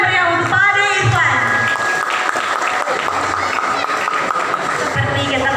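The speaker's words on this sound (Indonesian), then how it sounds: "Tepuk tangan yang meriah untuk Pak Ade Irfan." A seminar audience claps for the guest speaker, steady applause spread across the room and mixed with a tonal musical background throughout.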